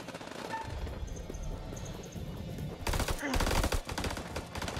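Gunfire in a firefight in the House of Ashes video game, dense crackling shots under a steady battle din, growing louder and denser in the second half.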